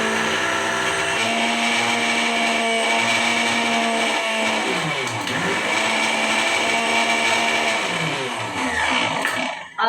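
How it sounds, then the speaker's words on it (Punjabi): A household mixer grinder loudly grinds two packets of coconut biscuits into crumbs, its motor whining steadily with brief pitch dips as the load shifts, then winding down at the end. "ਇਹ ਮਿਕਸੀ 'ਚ ਆਪਾਂ ਪਾ ਲੈ ਦੋ ਪੈਕਟ ਕੋਕੋਨਟ ਦੇ ਬਿਸਕੁਟ ਤੇ ਇਹਨੂੰ ਆਪਾਂ ਕਰ ਦੇਣਾ ਗ੍ਰੈਂਡਰ"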